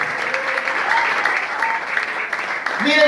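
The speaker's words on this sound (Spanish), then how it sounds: "Fuerte su aplauso a Jesucristo." A church congregation gives loud applause to Jesus Christ during a sermon, a dense, continuous roar of clapping with shouts and voices mixed in, one voice rising at the very end.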